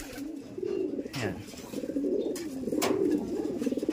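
Pigeons coo in rolling, repeated phrases close by after being released, with a couple of brief rushing bursts and a man's short word heard over them.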